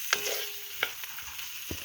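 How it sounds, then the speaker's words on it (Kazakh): Meat and garlic fry in a pan with a steady close sizzle, punctuated by a few sharp clicks and scrapes as the pieces are stirred. "Міне сарымсағымыз бен етіміз қуырып жатыр."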